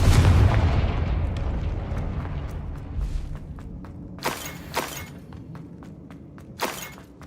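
In Hogwarts Legacy, a Confringo spell blasts a boiler door with a loud booming explosion that rumbles away, followed by several sharp cracking, shattering impacts of debris.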